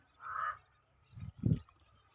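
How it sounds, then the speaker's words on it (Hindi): Birds over a village pond honk in short goose-like calls: one longer call, then two quick low honks a moment later, faint and somewhat distant, with no talk. "ये पक्षी ये तालाब में उड़ रही हैं सब"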